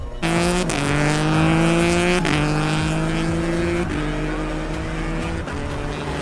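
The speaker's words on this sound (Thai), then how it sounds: "ตรงนี้จะเป็นการทดสอบเตะเกียร์ในรอบกลางนะครับ" A first-generation Yamaha MT-09 motorcycle with a BBK Racing quickshifter upshifts at mid revs beside a road, its loud engine note dropping sharply at three quick gear changes and climbing again after each.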